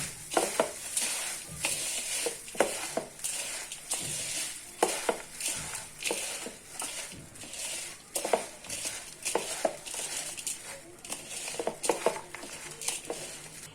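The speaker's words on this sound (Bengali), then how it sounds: "এবার আমি ভালো করে এটা মাখিয়ে নেব।" Jhal muri puffed rice tossed by hand with lemon and spices in a bowl, making close, rhythmic rustling crunches and swishes in repeated bursts, with no talking.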